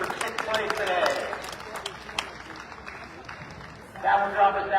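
Crowd applause ripples through the audience at an outdoor horse pulling contest in Dayton, Pennsylvania, a steady wash of clapping that swells again near the end, with an announcer talking over it.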